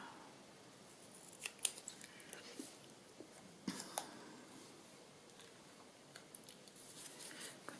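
Scissors snip paper receipt stamps up close, several quiet crisp cuts in irregular bursts over a hushed background.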